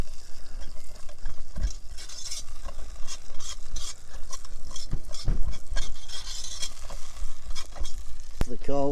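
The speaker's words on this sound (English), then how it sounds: "Okay, we're back here stirring." A thickening chicken roast dish is stirred in a camp oven over coals on a riverbank, with repeated scraping and stirring strokes against the pot over a low bubbling sizzle and occasional metallic clinks.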